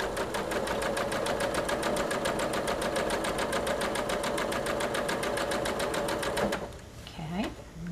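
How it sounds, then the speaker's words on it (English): Sewing machine stitching fabric right along the edge of a stiffener, a steady rapid run of needle strokes for most of the stretch, then stopping near the end as a voice briefly speaks. "Start sewing right along the edge of that stiffener, not piercing the stiffener with our needle."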